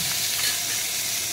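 Potatoes and chopped tomato fry in a pan with turmeric and salt, giving a steady, dense sizzle, close and even throughout with no voices.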